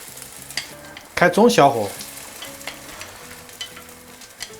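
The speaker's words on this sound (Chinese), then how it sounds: "好，就我们找个平底煎锅，这个油不要太多。 好，直接下入我们这个西葫芦" Zucchini frying in a little oil in a flat pan, a sharp burst of sizzling as it hits the hot surface, then a steady softer crackle, with a voice speaking briefly over it.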